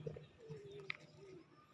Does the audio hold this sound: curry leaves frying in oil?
no